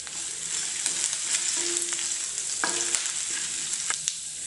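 Finely chopped ginger sizzles loudly in hot oil in a frying pan while a green chili fry is cooked, with light stirring clicks. The hiss is continuous and close, and no one speaks.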